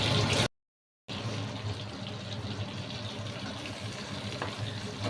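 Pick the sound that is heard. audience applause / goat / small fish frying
small fish frying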